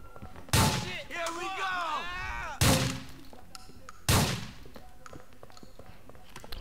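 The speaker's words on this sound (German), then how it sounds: "Weil wir hier in der engen Gasse sind, schieße ich immer mit der Schrotflinte." A shotgun fired in GTA IV in a narrow alley gives three sharp, loud blasts spaced a couple of seconds apart, with other game sounds ringing between them.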